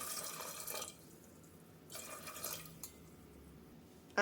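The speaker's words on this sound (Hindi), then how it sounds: "और अब इसमें हम 1 गिलास पानी डाल देंगे।" A glass of water splashes into a pressure cooker holding potatoes and peas in two short pours separated by a quiet gap, with a few faint drips afterward.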